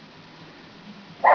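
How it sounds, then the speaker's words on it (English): A single short dog bark at the very end, after a stretch of quiet low background noise. "Excuse the barking, sorry."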